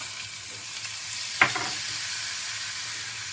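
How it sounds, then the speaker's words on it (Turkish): Flour roasts in browned butter in a pan, giving a steady broad sizzle with one short scrape of stirring partway through. "Ve unumu güzelce kavuruyorum."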